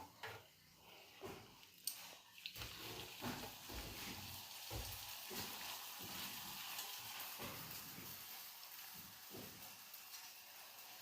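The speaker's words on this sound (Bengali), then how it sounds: "গরম গরম লুচি মা ভাজছে" Luchi puffs in hot oil with a soft, steady sizzle heard at a distance, joined early on by a few dull knocks and stirring sounds.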